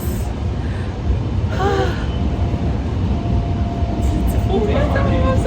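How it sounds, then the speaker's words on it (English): A Lagos Blue Line metro train rolls along with a steady, close interior rumble and rattle, while a faint tonal squeal rises briefly and other sounds bleed in near the end. "The train is moving."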